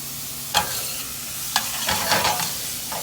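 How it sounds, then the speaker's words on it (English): Shallots, celery and carrots sweat in a generous amount of olive oil for mirepoix, giving a steady low sizzle broken by a few sharp stirring scrapes and clacks, close and alone. "We're going to sweat our mirepoix."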